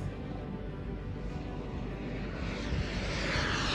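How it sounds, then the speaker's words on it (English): A remote control airplane flying at an RC track in Al Ain, its small engine a steady buzzing drone that swells slightly louder toward the end, faint and somewhat distant. "Guys, this is RC, not real airplane."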